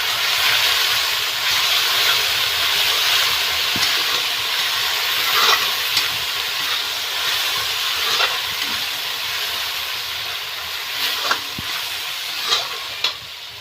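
Meat with tomatoes and yogurt stirred in a sizzling pan, a steady frying hiss with repeated scraping strokes of a spoon throughout.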